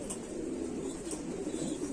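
An old female Sialkoti pigeon coos softly and steadily, a low continuous murmur lasting throughout with no voices over it.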